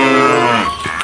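A toy cow gives a loud, drawn-out electronic moo that falls in pitch, close to the microphone.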